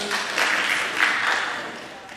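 Thin, half-hearted applause from an audience at a middle school awards ceremony, a scattered patter of claps rising briefly and then fading over about two seconds.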